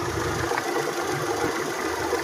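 A second-hand manual Mitsubishi Lancer engine idles steadily, a close, even low rumble with a faint mechanical patter and no revving, heard alone without voices.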